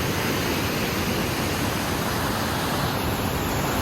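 Water of the Bheema river rushes at a dam in Yadagiri, a loud, unbroken roaring wash that fills the whole scene without letup.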